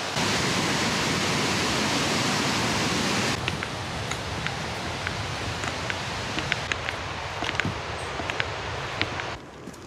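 Waterfall at Doi Inthanon in Thailand, a steady broadband rush of falling water that fills the clip, louder for the first few seconds then continuing slightly softer with faint high chirps over it.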